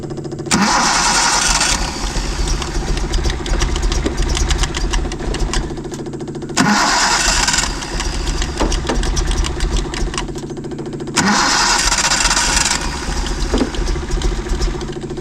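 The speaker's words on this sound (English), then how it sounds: "Like a hit and miss engine." A Datsun 240Z that sat wrecked for 30 years cranks three times, each time catching into a loud, rough, uneven idle with a loping, misfiring rhythm close by.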